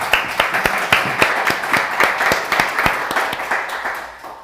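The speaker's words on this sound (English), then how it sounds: "Let's give them all some applause." Audience applause at a pitch event in Mallorca, a dense run of claps from a modest crowd, steady and fairly close, tapering slightly at the end.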